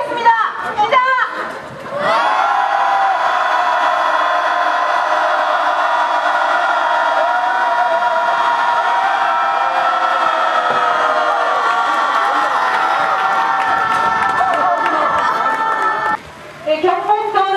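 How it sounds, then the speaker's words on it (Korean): A large crowd of protesters shouts anti-nuclear slogans together continuously for a long stretch, loud and dense, with a few separate shouts just before and after, at a rally in Yeongdeok, South Korea. "마지막으로 탈핵 함성 짧게"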